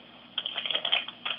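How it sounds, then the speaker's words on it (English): Rustling and rapid clicking noise over a call line, like keys being tapped, coming in short bursts for about a second, thin and tinny as heard through a phone connection. "There was a bunch of rustling going on in there."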